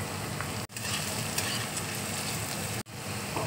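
Chopped green chilli, garlic and ginger fry in hot oil with a dense, even sizzle, close and steady, broken by two brief cuts in the sound.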